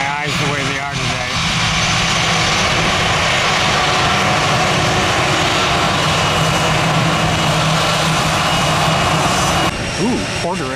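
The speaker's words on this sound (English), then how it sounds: "Ooh, Porter Air. The Embraer with the giant engines." A Porter Air Embraer jet with large engines runs at an airport, giving a loud, sustained engine roar close by that holds steady for about ten seconds, with brief voices near the start and end.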